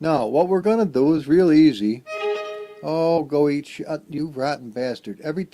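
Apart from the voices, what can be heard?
None of the usual background noises is heard.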